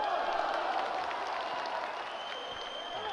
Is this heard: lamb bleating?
no